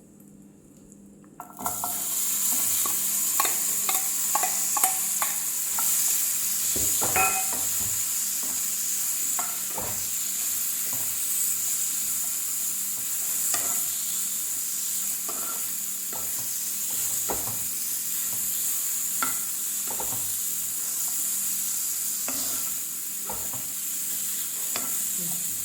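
Cooked jackfruit seeds with chilli and turmeric fry in a pan, a steady close sizzle broken by repeated scraping and clinking stirs against the pan, with no voice throughout.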